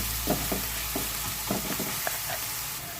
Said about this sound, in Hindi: हल्का सौते कर लेंगे फ्रेंड्स, ज़्यादा सौते करने की ज़रूरत नहीं है